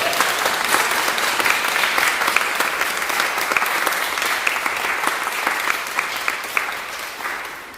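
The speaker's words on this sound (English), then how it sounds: "Are we allowed to clap now?" An audience at a poetry reading event bursts into sustained applause, dense and even clapping from a roomful of people lasting the whole stretch before tapering slightly at the end.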